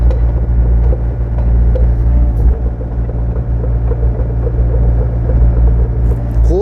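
A 2019 Hyundai HW60 wheeled excavator drives at low speed, giving a steady, loud diesel rumble with a constant low drone and faint mechanical clatter throughout, and no talking.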